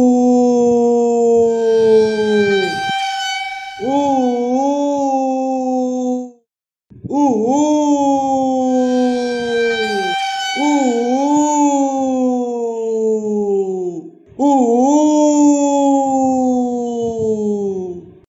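A dog howls in long, rising and falling wails with strong harmonics, several sustained howls in a row with brief gaps, loud and close, with faint speech now and then; the howling has a siren-like tone.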